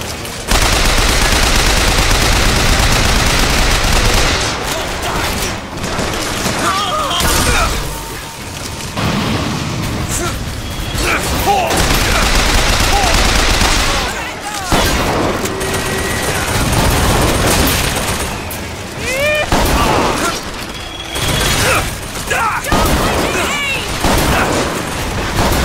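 Repeated machine-gun bursts in Bioshock Infinite, loud and near, alternating with heavy booms and brief lulls over a long firefight, with occasional voices between volleys.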